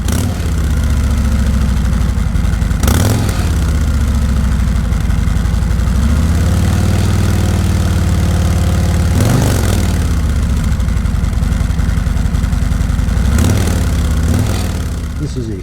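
A vehicle engine idles through Tab Performance 4-inch slash cut mufflers, a loud steady low rumble held close by, broken by three brief throttle blips that rise and fall back to idle.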